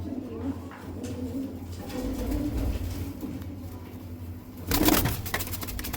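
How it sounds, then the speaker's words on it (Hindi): Punjabi desi pigeons cooing in a loft, repeated low throaty coos throughout with a rustle of wings near the end, close and moderately loud. "और इसमें कुछ ये बड़े कबूतर हैं पंजाबी"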